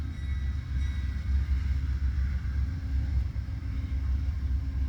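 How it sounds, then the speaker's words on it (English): An Amtrak Southwest Chief passenger train rolls past on the Marceline Subdivision with a steady, low rumble of wheels on rail, continuous and fairly close, with no talk. "There's Amtrak Southwest Cheif."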